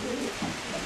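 Pigeons cooing inside loft boxes, soft low throaty coos repeating in overlapping rounds, close and steady with no talk.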